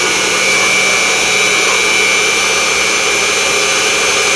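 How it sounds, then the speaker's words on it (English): Unimat SL1000 lathe taking a facing cut on 1144 steel, a steady high motor whine with a bright tonal squeal from the cutting tool, loud and continuous. "this is quite a nice little facing cut"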